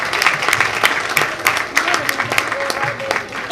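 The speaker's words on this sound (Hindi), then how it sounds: "असलम साहब और शरीफ साहब के लिए बहुत तालियां" Audience applause at a Yorkshire Adabi Forum women's day awards event, a fairly loud, uneven patter of clapping with distinct individual claps standing out and a voice briefly audible underneath.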